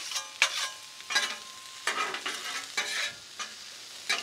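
Cauliflower and bacon sautéing in grease for a stir fry sizzle in repeated bursts as they are pushed around the pan, with clattering stirring strokes over a steady hiss.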